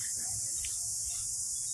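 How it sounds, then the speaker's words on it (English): A cicada, a shedding insect, produces a loud, continuous high-pitched buzz that stays unbroken for the whole short stretch, with faint low rumbles beneath. "That's a cicada for you."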